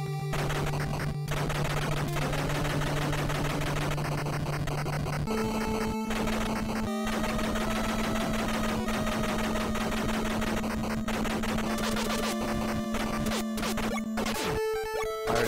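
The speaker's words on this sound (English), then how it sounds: "Machine gun though." Rapid 8-bit gunfire from the NES game Gun.Smoke crackles without pause over a looping chiptune melody, loud and dense throughout with no talking.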